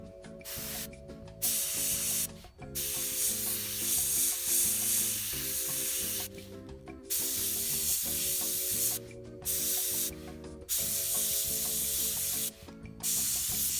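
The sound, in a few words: spraying Mission Models paint at 10 to 15 psi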